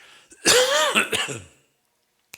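A single harsh cough or throat-clearing burst, close and fairly loud, lasting about a second, then silence.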